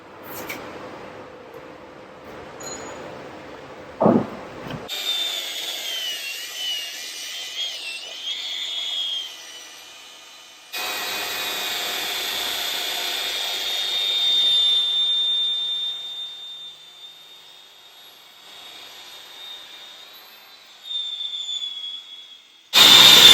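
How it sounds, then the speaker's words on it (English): A wire wheel buffs the weld area on a CAT 336D2L excavator dipper arm cylinder, giving a steady high metallic whine with gritty scraping that starts, pauses and resumes over a long stretch. "Just going to give them a little buff up with the wire wheel"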